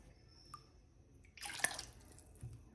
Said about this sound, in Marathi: तर हे परत पाणी टाकते थोडंसं.